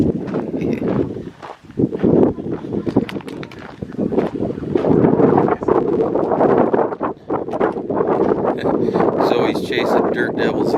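Strong gusty wind buffets the microphone outdoors on an off-grid homestead, rumbling and roaring in uneven surges for the whole stretch, with a person talking underneath.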